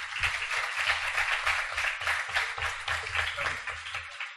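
An audience applauds a guest speaker at a presentation for a parapsychology and mystery biennial in Bélmez de la Moraleda, the steady clapping carrying at moderate loudness for several seconds with no talk over it.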